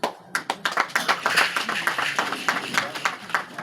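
Close, uneven clapping from a small audience at a school donation ceremony, individual hand claps distinct and loud, continuing steadily for a few seconds.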